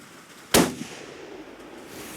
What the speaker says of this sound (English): we'll just get our shooting glasses on and take a shot or two here